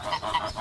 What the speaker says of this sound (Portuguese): Os gansos podem fazer um bom trabalho aqui no pomar.